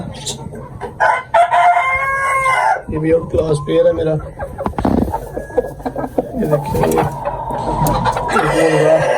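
Hera breed roosters crow loudly and nearby at a rooftop poultry setup, with clucking between calls, while someone talks over them.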